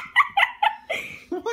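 A dog gives three short, high yips in quick succession, then a rougher bark and a rising whimpering whine, all close and fairly loud with no talking.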